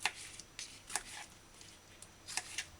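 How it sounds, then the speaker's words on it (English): A knife cuts a tomato into pieces on a cutting board: several quiet, crisp slicing taps spaced irregularly, close and soft, with no talk. "cut the tomato in quarters and then cut each quarter piece in half"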